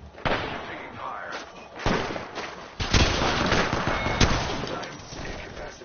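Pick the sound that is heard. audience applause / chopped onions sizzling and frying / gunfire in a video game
gunfire in a video game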